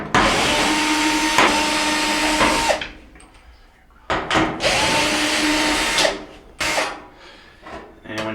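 A power drill backs screws out of the back panel of a Whirlpool dryer in several close, loud whirring bursts of a couple of seconds each, separated by short quiet pauses.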